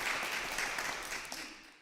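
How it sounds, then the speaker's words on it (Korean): Church congregation applauding to welcome a family at a Sunday service, a brief, fairly soft burst of many hands clapping that fades toward the end without speech. "박수 한번 주세요."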